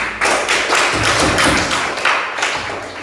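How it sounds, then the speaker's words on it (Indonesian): Classroom applause for a student group: dense, fast clapping from many hands, loud and close, filling the room with a steady wash of claps throughout. "Coba tepuk tangan kepada kelompok Ali."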